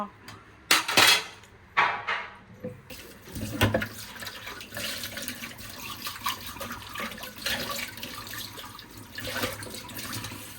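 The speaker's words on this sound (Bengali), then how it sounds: "এখন আমি সব থাল বাসন ধুয়ে ফেলি" Dishes and plates being washed under a running tap after a pre-dawn Ramadan meal, opening with loud clattering of metal plates and cutlery, then a steady rush of water with ongoing clinks and scrapes, up close and without talk.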